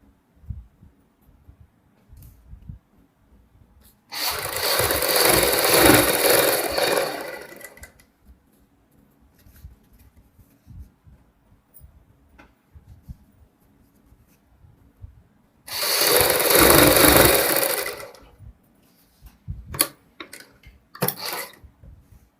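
A sewing machine runs stitching through the centre of elastic, held stretched so a saree belt gathers into pleats; two sustained bursts of close, loud whirring stitching are separated by quiet pauses with light handling noise.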